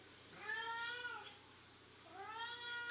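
A pet cat named Merlin meows indoors, two drawn-out, slightly plaintive meows separated by a short pause, fairly quiet and heard from a little distance in an otherwise calm room.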